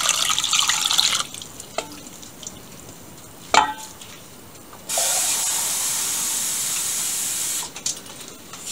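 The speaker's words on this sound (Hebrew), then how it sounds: "אני ממלאה את הקופסה במי ברז." Tap water runs into a container for a few seconds, a steady loud hissing stream following brief splashes and clatter, while making quinoa-stuffed peppers in a home kitchen.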